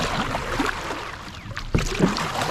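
A kayak moves across water on a cloudy evening after dark. Soft paddle splashes and lapping water sit under steady wind noise, with one sharper splash near the end.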